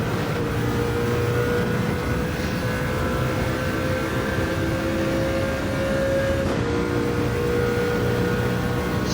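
Mercedes CLK LM 98 race car climbing the hill after Eau Rouge at Spa in Gran Turismo 7, its engine droning loudly and steadily throughout with a slight pitch shift partway through.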